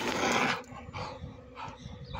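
A puppy playing with a ball gives a short loud bark, followed by a couple of softer, breathy yips and grumbles close by.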